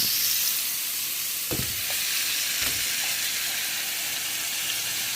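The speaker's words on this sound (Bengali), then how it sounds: "এটাকে একটু ভেজে নিই, তারপরে মাছগুলো দিয়ে দিই।" Ingredients sizzle and fry in a pan while a fish curry with fish heads is being prepared, a steady close hiss broken by a couple of brief stirring scrapes near the middle.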